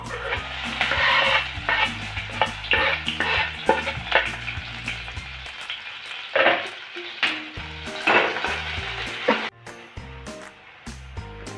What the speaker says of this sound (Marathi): तेल गरम झाले थोडी चिमूटभर जिरं टाकू जिरी परतली आपण आता कांदा परतून घेऊ